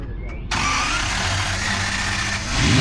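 A Jaguar E-Type Series 3 engine cranks briefly, then fires up abruptly and settles into a loud, steady, rumbling idle close by, swelling slightly at the end.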